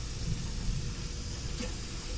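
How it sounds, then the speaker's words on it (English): Kebabs on a grill, a steady close sizzle with a faint scrape as they are turned. "Here are our kebabs so far. We'll just give them a little rotation,"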